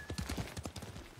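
A horse in the video game Ghost of Tsushima clip-clops along in a rhythmic run of hoofbeats, fairly close and steady throughout.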